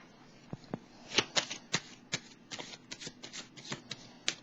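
Tarot cards are shuffled and handled close up in a quiet room, making a loose series of soft, crisp riffles, flicks and slaps at an uneven pace, with no one talking.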